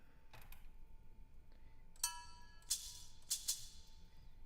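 A wooden shaker in an amapiano beat gives a few crisp, bright rattling shakes, starting faint and growing into sharper strokes near the end.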